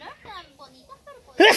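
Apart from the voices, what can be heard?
sneeze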